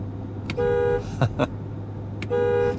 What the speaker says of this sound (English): what if someone cuts me off in the Ram and I need to go to the horn? What is that gonna sound like?